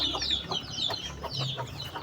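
Ducklings peep in rapid high chirps, several birds calling over one another nearby, with soft rustling underneath.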